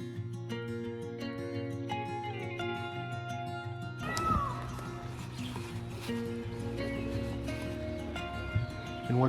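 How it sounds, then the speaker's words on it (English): A peacock calling on a tiger safari in Bandhavgarh National Park, a meow-like wail heard over steady vehicle engine rumble and distant birdsong, moderately faint in the open forest. "The meowing is the peacock."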